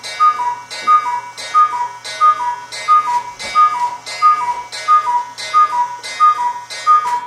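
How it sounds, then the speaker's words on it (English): A cuckoo clock's mechanism ticking and chiming in a steady, even rhythm, each beat carrying a bright tonal ring, loud and close with no voices over it. "That's the cuckoo clock."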